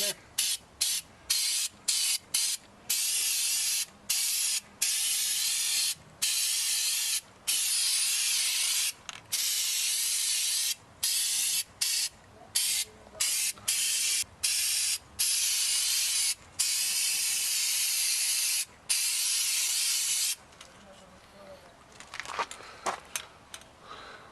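Aerosol bed liner coating sprayed onto a repaired shock bracket on a 2007 Ford Escape: long, loud hissing bursts broken by many brief pauses, ending with quieter handling noises.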